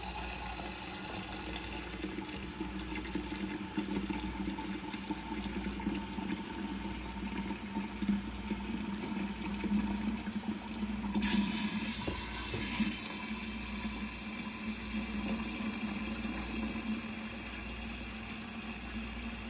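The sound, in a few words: hot water pouring into baking soda for homemade detergent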